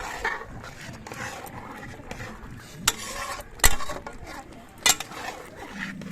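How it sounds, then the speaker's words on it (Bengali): A utensil stirs and scrapes spiced masala with potatoes for biryani in a pot over a village wood fire, giving close, irregular metallic knocks and scraping with a few sharp clanks. "আলু দিয়ে এটা কষা হয়ে যাচ্ছে।"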